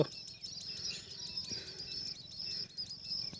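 A flock of pigeons gathering outdoors, with continuous overlapping chirps and soft calls over a low rumbling background, moderately faint and steady throughout.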